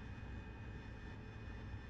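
AV-8B Harrier jet engine in the flight simulator DCS World producing a steady, dense roar with a constant whine, unbroken and even throughout, heard from inside the cockpit during a descent.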